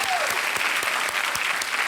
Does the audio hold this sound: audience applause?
yes